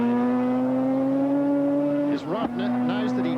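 A Mazda RX-7 mid-engine four-wheel-drive rally car at a 1988 Ashley Forest rallysprint holds a loud, steady droning engine note, then a commentator's voice briefly cuts in before the engine tone resumes.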